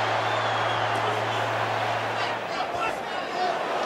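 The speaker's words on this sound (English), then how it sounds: "You hear the crowd." Boxing arena crowd roars and murmurs through round four of the Canelo Alvarez versus Billy Joe Saunders fight, a steady loud wash of distant voices with a low hum beneath it.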